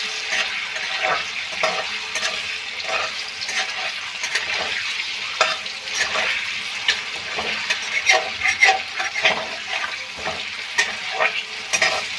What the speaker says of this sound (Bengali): পনিরটাকে হালকা করে একটু ভেজে নিলাম লাল করে নয়